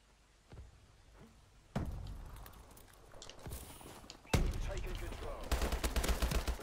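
Video game gunfire rings out in scattered sharp shots, then rapid loud bursts, from an old favourite gun amid thumps and movement.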